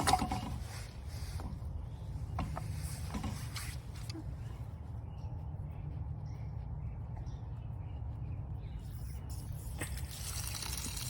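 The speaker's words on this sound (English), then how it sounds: "look how much water is still draining out of here" Water trickling and draining out of an opened sprinkler system valve during winterizing, a steady low gurgling flow with scattered drips and clicks, close by and continuous.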